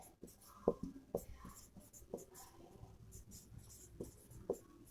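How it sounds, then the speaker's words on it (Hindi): Handwriting during a maths lesson, heard as close, quiet pen or chalk scratches and small taps coming in irregular short strokes across the whole stretch. "तो लिख सकते हैं"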